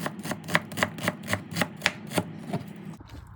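A knife chops through the second half of an onion on a cutting board in quick, steady strokes, about eight crisp close taps before a short pause and one last cut.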